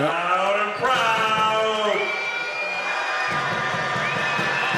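Home crowd at a professional basketball game in Newcastle cheers, whoops and shouts in a sustained, fairly loud roar after a missed free throw, with a commentator speaking beneath the noise.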